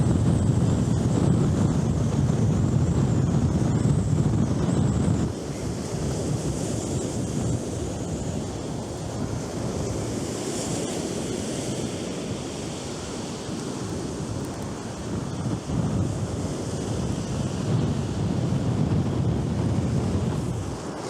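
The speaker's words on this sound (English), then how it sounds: "The wind is so heavy." Heavy wind at the seashore at Glyne Gap, Bexhill, during a fishing trip: a constant loud roar of gusts buffeting the microphone, with surf washing underneath throughout.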